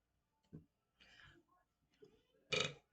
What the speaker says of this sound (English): When you gotta belch, you gotta belch.